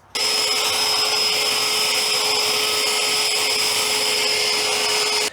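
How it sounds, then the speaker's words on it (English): A steady, loud whine of an EGO battery-powered leaf blower running at constant speed outdoors after gutter cleaning, starting abruptly and cutting off after about five seconds, with no talking. "Then afterwards for cleanup, I already have my blower out and it's super easy."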